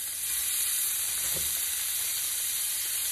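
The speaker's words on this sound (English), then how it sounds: "Add just a little bit more olive oil in there to cook these shrimp" Shrimp sizzling in olive oil in a hot pan, a steady bright frying hiss held close and even throughout, with one soft thump partway through and no talking.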